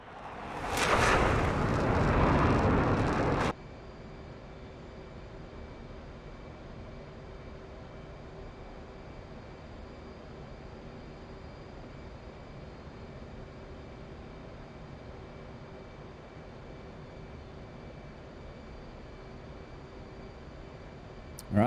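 An aircraft in the DCS flight simulator game, flying in the Persian Gulf region, passes in an external flyby. A loud roaring burst is followed by a steady, moderate jet drone that holds for about eighteen seconds, with no voices.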